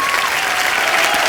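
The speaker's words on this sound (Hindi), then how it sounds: "एक बार जोरदार तालियां हो जाए उर्वशी और इंदर कुमार सर के लिए।" Dense, steady applause from a TV comedy show studio audience fills the whole stretch, loud and continuous with a broad crowd wash of clapping.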